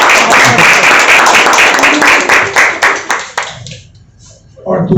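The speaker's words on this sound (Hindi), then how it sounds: "तालियां बजनी चाहिए।" An audience bursts into loud applause, dense clapping that holds steady for a few seconds, then thins and fades before picking up again briefly at the end.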